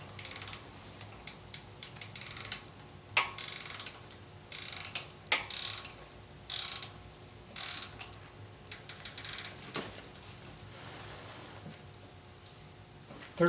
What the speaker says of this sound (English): let's try tightening this bolt and see where we're at